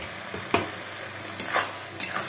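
Onion, green chilli and garlic paste fry with browned onion and capsicum for chilli chicken, a steady close sizzle broken by three sharp stirring scrapes.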